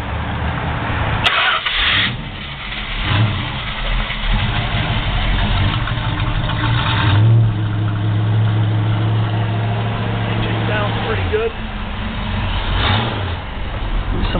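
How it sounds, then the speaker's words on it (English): 1971 Plymouth Roadrunner engine cranking and firing on a cold start, then settling into a loud, steady, rumbling idle with a brief rev, heard close up with no talking. "fire that thing up so we can get a cold start on it"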